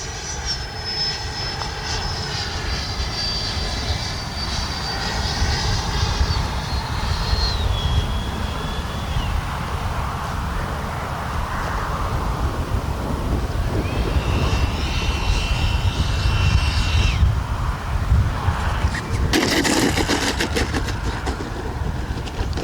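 An FMS Integral 80mm electric ducted-fan RC jet flies overhead, its turbine-like whine rising and falling steadily as it passes at varying distance, with a faint voice briefly in the background.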